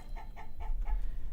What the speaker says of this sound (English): So we're going to have you raise some chickens.